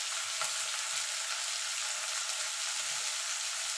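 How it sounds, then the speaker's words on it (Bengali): Dried red chillies, ginger, garlic, onion and tomato frying in a pan for a Bengali egg curry, giving a steady close hiss of oil with soft scraping stirs underneath throughout. "এবার এটাকে ভালো করে একটু ভাজা ভাজা করে নেব।"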